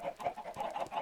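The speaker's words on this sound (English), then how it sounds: "We have so many chickens now." Chickens cluck softly in Minecraft, the block-building game, on a crowded farm. Several short, quiet clucks repeat in a quick, uneven rhythm.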